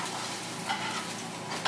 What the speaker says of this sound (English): I'm going to flip the patties now because I'm assuming that they have done some cooking on one side